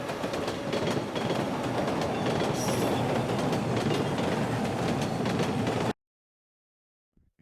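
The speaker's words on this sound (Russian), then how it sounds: "Метро." A metro subway train runs loud and close with a continuous roaring rumble and rail clatter and a brief wheel squeal, then cuts off abruptly into silence.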